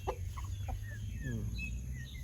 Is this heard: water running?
no